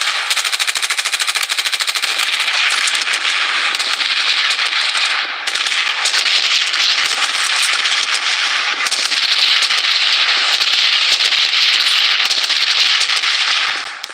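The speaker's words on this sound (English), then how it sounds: "Missile bombardment on its way." Missile bombardment explosions in the Blood Strike battle royale video game: a dense, loud, continuous barrage of rapid blasts and crackling booms lasting throughout, with only a momentary dip midway.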